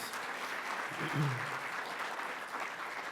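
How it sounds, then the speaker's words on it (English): Applause from the audience at a university communication department's centennial appreciation day, a soft, distant wash of clapping held at a low steady level throughout. "Let's hear another round of applause, please."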